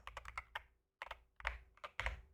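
Typing on a computer keyboard during an online city-naming quiz: quick bursts of close, crisp keystrokes separated by short pauses, with no talking.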